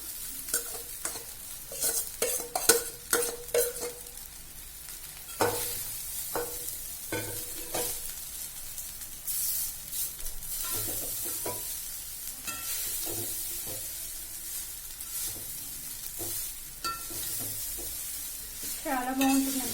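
A vangi bath mixture of brinjal and spice powder is stirred and fried in a pan, with a steady close sizzle and repeated spatula scrapes and knocks against the pan.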